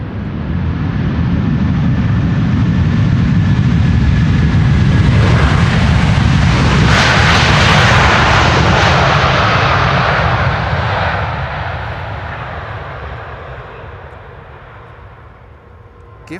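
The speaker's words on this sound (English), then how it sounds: "Delta Airlines flight 136 arriving from Detroit, Michigan. A330-300." A Delta Airlines Airbus A330-300, 23 years old, lands at Amsterdam Schiphol, a loud, steady jet roar swelling as it passes near, then fading away into the distance.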